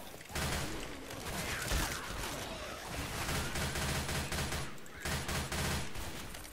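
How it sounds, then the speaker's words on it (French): Machine gun fire in a zombie video game, dense sustained bursts of rapid automatic shots with brief pauses, loud and close throughout, no talking. "je vais directement utiliser les mitrailleuses maintenant qu'on avance ici parce que ça commence à être chaud"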